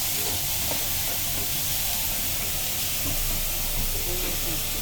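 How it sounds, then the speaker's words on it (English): Onions sizzling in a frying pan with ginger for crispy pork dumpling filling, a steady close hiss and crackle with faint stirring underneath and no talk. "So first we're putting in our onions."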